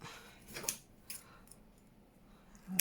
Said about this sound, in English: Let's just cut it to size.